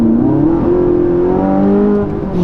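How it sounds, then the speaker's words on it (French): A naturally aspirated V8 in a Ferrari 458 Italia revs steadily with rising harmonic tones, loud and close from the cabin with the Manettino in sport mode, and no talk over it. "Le V8 atmosphérique Ferrari, c'est vraiment un bijou."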